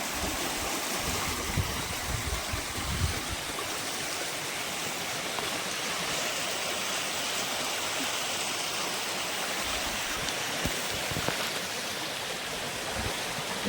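Steady broadband rush of the Pichaangarai river near Bodi flowing over rocks, constant and moderately loud from close by, with no voices throughout.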